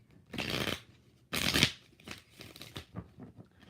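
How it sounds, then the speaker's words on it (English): A deck of tarot cards being shuffled by hand, two loud riffling bursts followed by softer tapping and squaring of the deck, close up with no speech. "Let's shuffle it 3 times and redo it."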